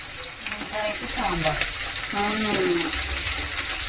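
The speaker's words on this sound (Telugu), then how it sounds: "కొద్దిగా కరివేపాకు వేస్తున్నాను చూడండి." Curry leaves hit hot oil in a pan of stuffed eggplant curry, giving a loud, steady crackling sizzle that runs the whole time, with a brief voice over it.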